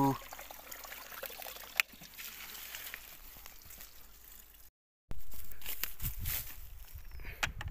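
Water is poured by hand onto plant roots in a village garden in Nepal, a trickling, splashing stream that runs moderately close with a brief break partway through, with no talking.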